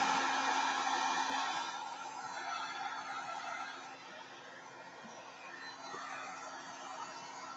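A very hot heat gun drying Pebeo Setacolor fabric paint on a silkworm painting, blowing a continuous, steady whooshing airflow with a motor hum that eases slightly partway through.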